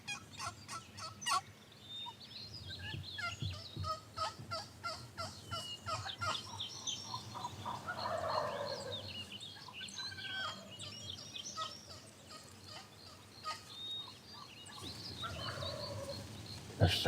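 Wild Rio Grande turkeys gobble repeatedly in California hunting country, distant and faint calls rolling out in bursts among chirping birds, with no talk.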